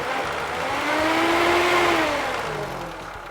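A stock classic car's four-cylinder 1.8 liter carbureted engine revs up, its pitch climbing and then falling back, loud and close with no talk over it.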